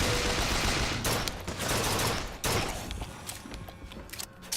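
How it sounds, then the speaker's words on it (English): Enemies in a late-1990s video game spray machine gun fire, a dense, loud stream of rapid shots with brief gaps between bursts, continuous and close with no talking over it. "And that's because these guys just have machine guns."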